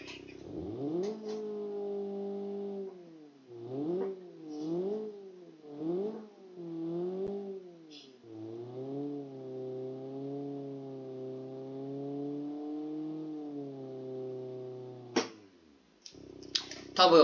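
A Fiat Uno with a straight-through exhaust in the BeamNG.Drive game revs in short rising and falling blips, then holds a steady buzzy drone. A few sharp clicks come at the end.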